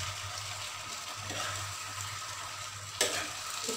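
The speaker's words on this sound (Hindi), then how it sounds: "इसको अच्छी तरीके से मिक्स कर लूँगी और थोड़ी देर के लिए इसको भूनने दूँगी।" Potatoes and tomatoes frying in a pan, a faint, steady sizzle with soft stirring and one sharper scrape near the end.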